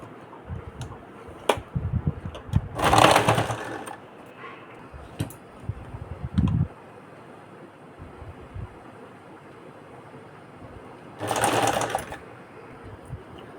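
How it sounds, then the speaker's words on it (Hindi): A sewing machine stitches blouse fabric in two bursts of fast, whirring mechanical chatter close by, separated by a long quieter stretch of handling noise and faint ticks. "अब इसके ऊपर इस कपड़े को हम इस प्रकार से रख के सिलाई कर देंगे"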